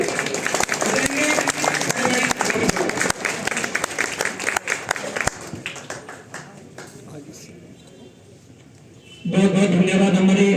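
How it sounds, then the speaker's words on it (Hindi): Hearty crowd applause at a public rally in Almora welcoming Bobby Panwar, head of an unemployed youth union, loud and dense clapping that fades out, then swells again near the end under announcer talk. "मैं चाहता हूं कि आप एक बार जोरदार तालियां उनके लिए बजाएंगे"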